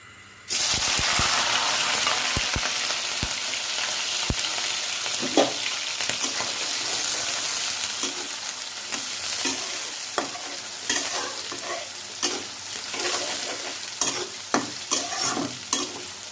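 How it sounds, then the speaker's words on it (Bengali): Shrimp and onion hit hot oil together with a sudden loud sizzle that continues steadily, broken by repeated scraping and clattering from stirring in the pan. "এখন আমি চিংড়ি মাছ আর পেঁয়াজ একসাথে দিয়ে দিব।"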